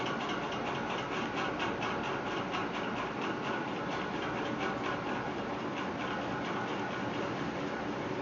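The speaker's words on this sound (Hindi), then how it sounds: "तो अब इसको मैं एक किनारी पे इसकी सिलाई लगाऊंगी दबाव वाली" A sewing machine stitches along the edge of fabric for a small dress, a steady rapid mechanical whir and ticking rhythm that runs evenly throughout at moderate volume, with no voices.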